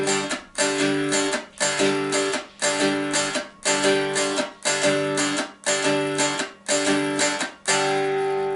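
Strummed cigar box guitar or dulcimer playing a twelve-bar blues rhythm, down strokes on the beats and up strokes on the offbeats; steady, loud, close chords with sustained ringing tones and no talking.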